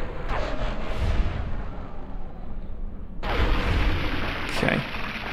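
Gunfire from the video game Fallout New Vegas in the Ashton Missile Silo, a dense, loud rumbling barrage with a sharp cutoff and renewed blasts midway, layered over a continuous game soundtrack.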